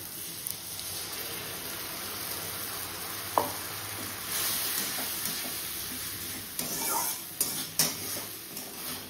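Spice paste sizzling in a pan with well-fried onion and tomato, a soft steady frying hiss under occasional spoon scrapes and clinks, fairly quiet and close.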